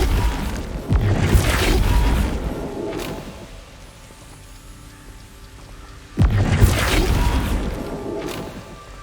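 A spell impact from Flipendo in Hogwarts Legacy on PS5, a loud booming blast that hits twice several seconds apart, each burst sharp at onset and trailing into a rumbling decay.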